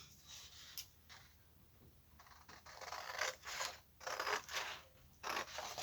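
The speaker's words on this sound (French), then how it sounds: "Je vais couper mon truc, mon bout de papier." Scissors cutting through a piece of paper for card making, with quiet, close snips and crisp scraping strokes that come in short bursts and grow denser toward the end.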